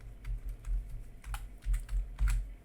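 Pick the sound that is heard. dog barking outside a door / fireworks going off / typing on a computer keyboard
typing on a computer keyboard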